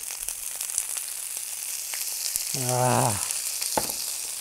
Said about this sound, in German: Also die garen jetzt hier quasi im Olivenöl.